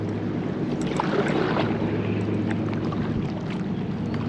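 Wake waves from a passing boat slosh and lap against a small craft on a river, a continuous rushing wash with occasional splashes mixed with wind buffeting on the microphone.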